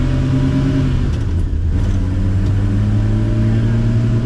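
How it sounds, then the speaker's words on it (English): A large engine of an old ex-military Volvo C306 6x6 truck idles steadily with a deep, even rumble and low harmonic hum, running close by without pause. "And it runs nicely, especially for such an old truck"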